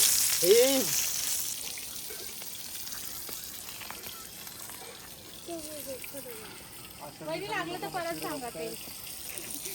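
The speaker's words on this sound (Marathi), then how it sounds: "आपण आज मच्छी फ्राय करणार आहोत. बांगडे फ्राय, सुरमई फ्राय." Mackerel and kingfish slices frying in a village kitchen in Konkan, a steady soft sizzle running throughout under intermittent nearby voices and some clatter.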